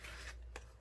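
A tarot card slides out of the deck with a brief dry rasp, then gives a short papery flick, close up and quiet.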